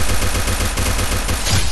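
Sustained rapid automatic gunfire in a battle royale video game, a dense, fast, evenly pulsing stream of shots, loud and unbroken with no talking.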